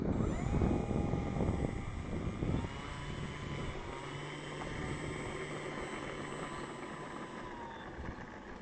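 An FMS PC-21 Pilatus radio-controlled model plane flies overhead, its electric motor whining steadily at moderate distance, louder and rougher at first and then settling into a smoother, fading drone.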